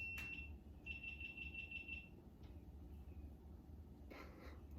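A high electronic alarm beeps indoors: a steady tone, then a quick run of pulsed beeps, with a few softer chirps afterward over a low background hum.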